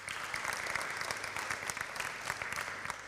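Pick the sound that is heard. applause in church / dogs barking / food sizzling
applause in church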